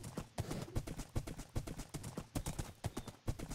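Horse hooves clip-clop steadily in the Minecraft video game, a quick, even run of close, distinct hoof knocks that repeats throughout with no talking.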